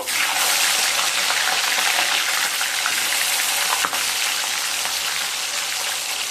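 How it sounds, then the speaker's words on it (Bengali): Katla fish pieces, just flipped, fry in hot mustard oil in a kadai, a loud, dense, unbroken hiss with a faint clink partway through and no voices. "একটা সাইড মাছ ভাজা হয়ে গেছে, এবার উল্টে দেব।"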